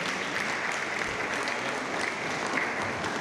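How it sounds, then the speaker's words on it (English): Audience applause at a university 20th anniversary celebration for research and innovation, a steady, dense clapping from a large crowd that carries on without a break. "Please keep applauding the Vice Chancellor as the President."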